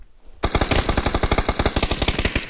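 Rapid automatic gunfire in PUBG, a close, loud burst of evenly spaced shots starting abruptly and hammering on for about two seconds, heard alone.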